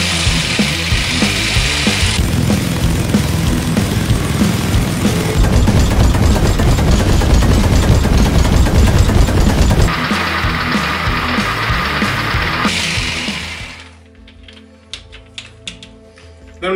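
A homemade motorized shaking machine dry-shakes a Ramos gin fizz in a metal tin with one small ice cube, giving a loud, rapid, continuous mechanical rattle. It stops near the end, leaving faint clicks.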